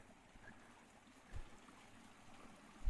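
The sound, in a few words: small brook flowing at night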